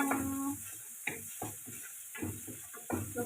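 Chopped onions sizzle and crackle as they fry in a pan with garlic, with a steady hiss broken by several louder bursts of stirring, close by and with no talking.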